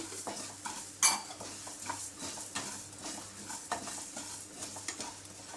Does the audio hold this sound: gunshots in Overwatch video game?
no